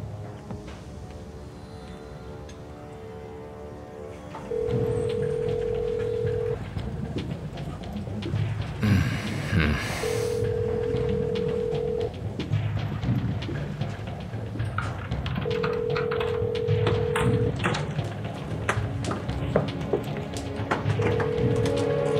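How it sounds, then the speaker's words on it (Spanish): A telephone rings in four evenly spaced electronic tone bursts, each lasting about two seconds, over quiet indoor background noise. "No contestes el teléfono."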